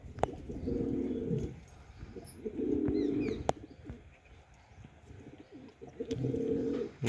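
Pigeons coo nearby in repeated low, throaty bursts with pauses between, accompanied by a few faint chirps.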